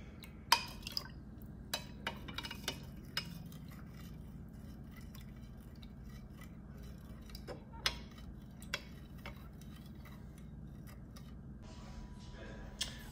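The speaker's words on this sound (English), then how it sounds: "I'm gonna just kind of stir it. It takes a little bit to dissolve." Corn sugar being stirred into a liquid to dissolve it, with faint sporadic ticks and light clinks of a utensil against the container over a quiet low hum, sparse and close.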